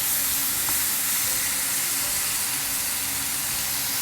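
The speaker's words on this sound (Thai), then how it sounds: "เสียงย่างนี่ซ่ามากเลยค่ะ ซูซ่ามาก" Constant loud sizzling of pork neck grilling on a hot grill pan, a dense steady hiss with no talking.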